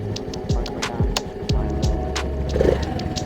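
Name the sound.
Honda Navi engine revving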